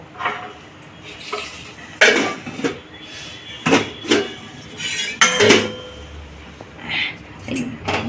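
Lentil batter for dahi vada being beaten by hand in a bowl: irregular bursts of slapping, clattering strokes with short pauses between them, fairly close.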